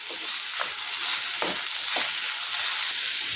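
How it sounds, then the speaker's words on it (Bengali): A sweet coconut filling of grated coconut, khoa and sugar is stirred in a pan over a very low gas flame, giving a constant hissing sizzle with a few soft scraping strokes. "গ্যাসের ফ্লেম একদম কমিয়ে রেখে নেড়ে চেড়ে নারকেল পুরটা তৈরি করে নেব।"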